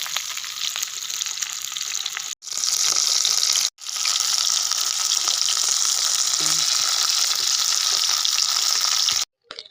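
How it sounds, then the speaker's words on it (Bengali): Fish rubbed with ginger and garlic frying in hot mustard oil in a wok, a loud steady sizzle broken by two brief pauses, with no talking. "তেল গরম হয়ে গেছে, এবার মাছগুলো ভেজে নেব।"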